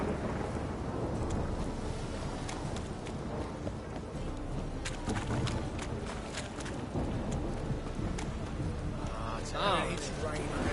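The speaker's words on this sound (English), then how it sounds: "It's raining." Steady rain and distant rumbling thunder fill a stormy scene in The Witcher 3 video game, a dense constant wash of drops with occasional sharper cracks and no speech.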